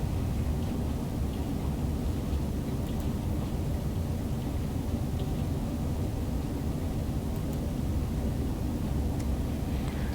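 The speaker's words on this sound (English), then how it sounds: "This rolling sound that the train makes" A BR Class 395 Javelin train in Train Sim World rolls along with a steady, dense rumbling hiss and faint rhythmic clicks, unbroken for the whole stretch.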